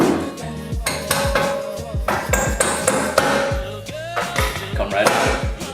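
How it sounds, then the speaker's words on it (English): A dead blow hammer with a soft face strikes a rusted brake rotor on a Nissan 370Z (Z34) again and again, giving loud, close metallic whacks in a steady irregular rhythm, with faint talk in the background. "just take a dead blow hammer"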